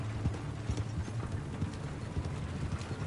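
A horse in Red Dead Redemption 2 clip-clops at a steady trotting rhythm, its hooves thudding close and clear throughout with no talk over them.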